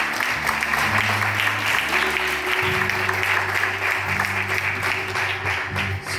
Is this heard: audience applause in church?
yes